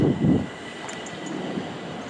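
A London train departs from a long station platform, its low heavy rumble easing into a steady wind-like hum with faint squeals overhead.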